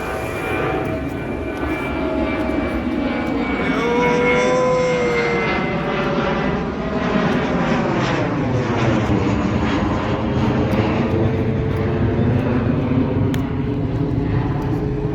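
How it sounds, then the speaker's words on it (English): A fixed-wing plane takes off at Almaty airport in Kazakhstan, its engines building into a loud, sustained roar with a shifting, sweeping pitch heard from a distance, with no one talking. "there is another plane which is taking off"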